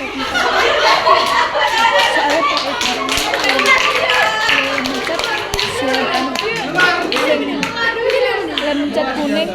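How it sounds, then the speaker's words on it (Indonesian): A classroom claps together in a dense, steady patter of many hands that continues throughout, with chuckles and talking mixed in. "Tepuk bareng."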